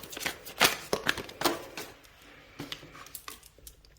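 Tarot cards are shuffled and drawn by hand, giving close, crisp riffling bursts and flicks that fade into lighter slides and taps, with no talking.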